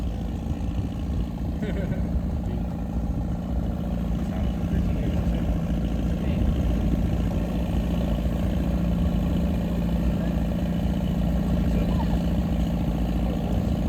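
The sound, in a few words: tractor pulling a wagon on a farm ride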